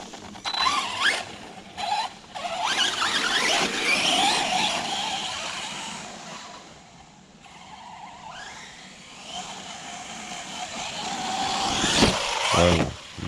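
An ARRMA Senton RC monster truck revs its electric motor in whining surges, rising and falling with throttle bursts and tire scrabble on dirt, fairly close, with a strong rev near the end.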